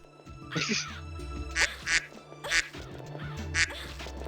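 Birds in The Ring: Terror's Realm video game give about four loud, raspy squawks at uneven intervals over a low game rumble.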